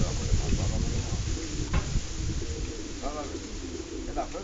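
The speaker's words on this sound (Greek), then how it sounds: "Να πετάξει τα περιστέρια του." A fancier's domestic pigeons coo in a loft, low rolling calls recurring beneath background voices and a brief knock.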